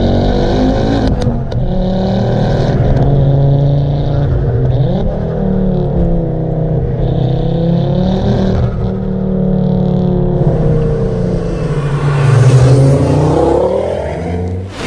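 A Ford Focus RS engine and exhaust under way, droning steadily with rising and falling revs as the car accelerates and shifts. The sound is close and continuous, with no talking.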